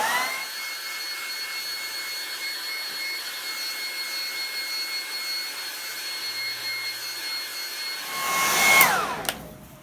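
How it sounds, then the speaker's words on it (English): A hair dryer blows steadily on black gesso on a canvas board, a continuous whirring hiss for about eight seconds before it is switched off and winds down. "I'll just give that a quick dry with a hairdryer."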